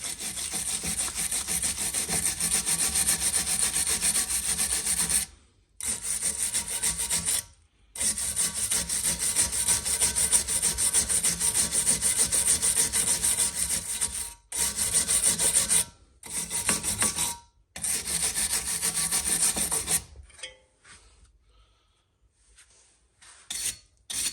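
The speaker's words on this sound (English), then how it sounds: "And cleaning where the pads slide against the carrier." Close, loud abrasive scrubbing of the pad slide areas on a BMW 1/2/3/4 Series brake caliper carrier, steady rasping strokes in long runs with several brief pauses, fading to near silence at the end; no talking.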